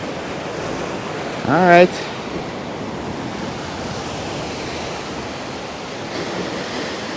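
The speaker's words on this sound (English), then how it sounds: "Look at those swells." Ocean waves and swells rolling in along the Portland coast of Jamaica, a steady broad wash of surf with wind noise on the microphone, and a person briefly speaks near the start.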